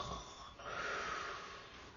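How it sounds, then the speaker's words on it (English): A wolf lying in bed snores loudly in slow, raspy breaths, a faint, close, continuous snort-like rasp with no talking. "began to snore very loudly"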